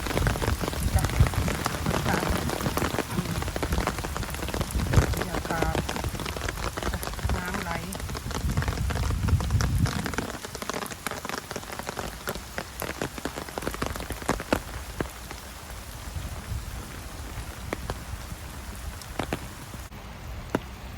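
Rain patters steadily on surfaces in a public park, a dense continuous hiss of drops that thins slightly in the second half, with no voices standing out.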